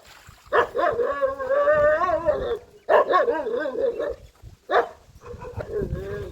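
A farm dog near a cattle shed barks and whines in several close, loud bursts, with whimpering tones between the barks.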